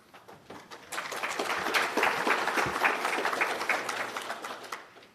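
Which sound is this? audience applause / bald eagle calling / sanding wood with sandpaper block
audience applause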